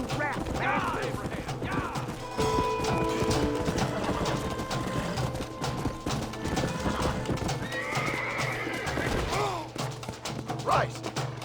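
Horses in the Western game Red Dead Redemption whinny and neigh over steady clip-clopping hooves, with game music and ambient noise running throughout.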